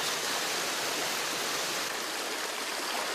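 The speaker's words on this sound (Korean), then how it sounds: "어제도 그저께도 똑같이 흐르는 물소리에 흠뻑 취해" A mountain stream flows steadily in a natural outdoor setting, a dense continuous rushing and hissing of water, close and even throughout with no voices.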